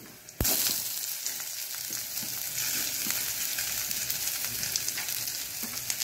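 Mustard seeds and onion fry in hot oil, a sudden loud hiss breaking out and settling into a steady, crackling sizzle close up, with no talking.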